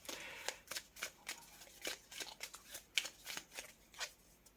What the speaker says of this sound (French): Alors je vais quand même sortir une petite carte en plus.